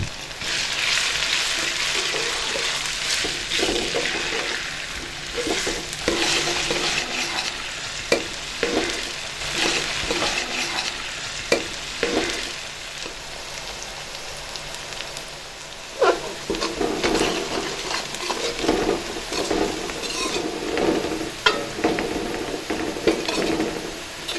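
Onions frying in a pan for an egg and potato curry, a steady close sizzle broken by repeated scraping stirs and the odd clink of the spoon against the pan throughout.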